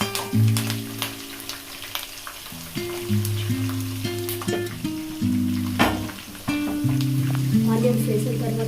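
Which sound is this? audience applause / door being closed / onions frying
onions frying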